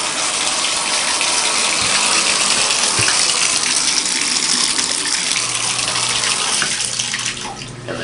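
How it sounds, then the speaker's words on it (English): A shower runs through an on-demand water heater, giving a loud, steady rush of water that continues throughout, joined by a low hum near the end. "Maybe I'll turn on the shower."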